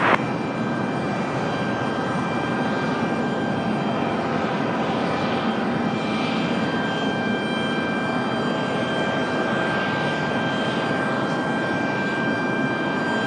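An Air France heavy airliner departs Raleigh-Durham International Airport, its engines a steady, broad roar with a faint high whine that holds loud and unbroken throughout.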